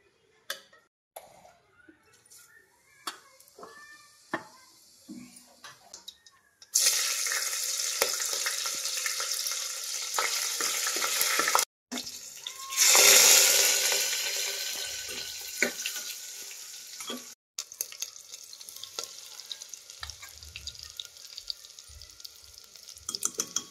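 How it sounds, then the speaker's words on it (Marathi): Chopped onion sautéing in two small ladles of oil until reddish for a whole masoor dish: a quiet start with faint clinks, then loud, steady, close sizzling and stirring, broken by a few short cuts. "कांदा लालसर परतून घ्यायचे।"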